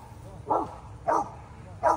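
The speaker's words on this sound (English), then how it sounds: "That dog's coming over looking for trouble." A dog near an abandoned house barks three times at even intervals, sharp mid-pitched woofs, close and clear over quiet background.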